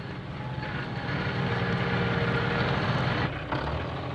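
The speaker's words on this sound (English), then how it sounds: "he heard a powerful engine coming up the road on the other side of the blockage" A powerful tractor engine with a bulldozer blade rumbles steadily as it approaches along a road in a cartoon, a loud low drone holding near constant before a brief dip.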